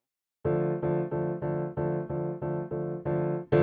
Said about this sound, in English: that's the noise of the hammers on the piano